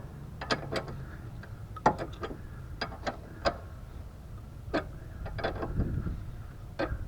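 A ratchet wrench clicks in short uneven bursts while turning a rear brake bolt on a 2007–2012 Nissan Altima, close and quiet with no talking.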